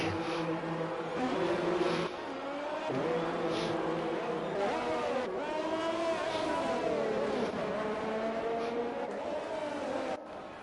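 F1 race cars in a video game driving out onto the Vietnam circuit, high engine whines rising and falling through gear changes as several cars run together, steady and fairly close.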